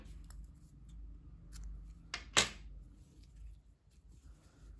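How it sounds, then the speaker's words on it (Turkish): Scissors snip through gray crochet yarn, giving a couple of sharp, close metallic cuts in the middle of an otherwise quiet stretch with faint handling rustles. "İpliği burada kesiyorum arkadaşlar"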